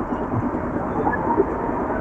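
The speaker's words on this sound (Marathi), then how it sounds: "टायमानंतर आता ट्रेन आलेली आहे" Fast local train pulling into a Mumbai station, a steady close rumble and rattle of rolling carriages with faint squeals, set against busy platform noise.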